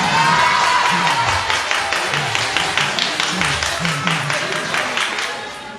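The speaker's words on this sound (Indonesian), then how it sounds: "Tepuk tangan pada istri" A large indoor audience at an Islamic Quran-commentary study session claps and cheers for the preacher's wife, with dense applause sustained throughout. Voices shout beneath the clapping, which fades slightly toward the end.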